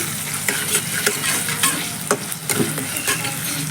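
Fried onion with cumin and ginger paste sizzling in a pan, stirred with repeated sharp scraping knocks over a steady, close frying hiss; no one speaks.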